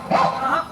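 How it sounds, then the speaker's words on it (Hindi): A dog at a gate gives a short, loud bark or yip, a single close burst lasting under a second. "अरे वो गेट पे है कुत्ता साहब।"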